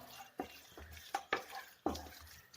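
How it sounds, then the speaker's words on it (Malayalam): A few spaced scraping knocks of a spoon stirring beef curry with curry leaves in a pan, quiet and close, with a faint sizzle between strokes. "നന്നായി മിക്സ് ചെയ്യുക"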